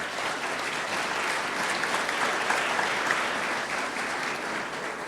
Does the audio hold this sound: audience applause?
yes